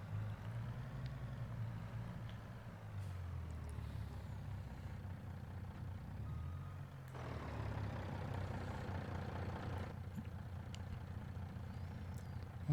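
An old truck idles in the video game Farming Simulator 22, a steady low engine rumble that shifts in pitch a few times, moderately loud with no voices.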